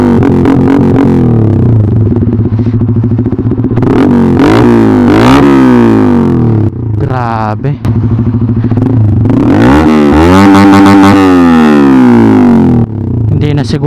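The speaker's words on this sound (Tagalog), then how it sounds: "Hindi na siguro kinakaya ng mic yung ingay ng tambutso ko." Rusi Flash 150i motorcycle with an SC Project aftermarket muffler, its exhaust loud and close, idling with a lumpy rumble and then revving up and down repeatedly, with brief spoken words in between.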